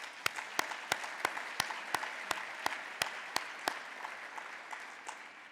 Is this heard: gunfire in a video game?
no